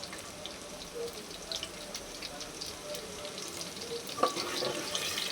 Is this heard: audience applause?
no